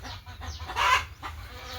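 A rooster calls near a rural home, one short, strained cry rising out of quiet background noise and fading within about a second.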